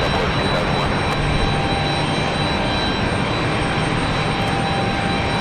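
Auxiliary power unit of a Lufthansa Boeing 787 Dreamliner parked at the gate, a loud, steady broadband roar with a faint whine, continuous and unchanging throughout, with wind outdoors.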